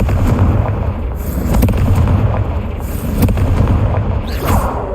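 Fiery Confringo spell blasts in Hogwarts Legacy, heard as loud, dense rumbling booms with crackling bursts that keep up for the full stretch, no voices over them.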